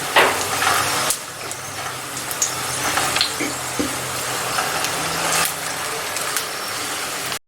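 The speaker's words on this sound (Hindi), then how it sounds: "अब मैं इसलिए पलट रही हूँ और स्लो मीडियम से स्लो फ्लेम पे आपने पकाना है, अच्छी तरह पक जाए।" Arabic paratha (mutabak) cooking in a pan over a low flame, a steady soft sizzle and fry with a few clatters and a low background hum throughout, with no talking.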